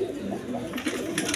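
Red three-bar Danish pigeons give soft, low cooing, quiet and brief, with nothing else clearly audible.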